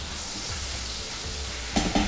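Julienned ginger and two green chilies frying in a pan, a steady close sizzle with faint stirring scrapes and a couple of sharper clinks near the end, no voices.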